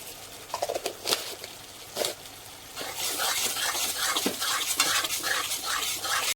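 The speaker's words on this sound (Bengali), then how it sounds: "এখন আবারও ভালো করে কষিয়ে নেব।" Spice masala for Bengali doi katla being stirred and fried in a pan: a few scraping strokes, then a steady close sizzle with a spoon tapping and scraping through it.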